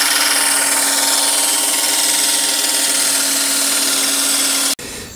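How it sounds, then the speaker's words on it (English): A power drill bores holes in the frame of a 1993 Ford F350 farm truck, producing a loud, steady whine with grinding for nearly five seconds before stopping abruptly. "so we can drill these holes, bolt it in"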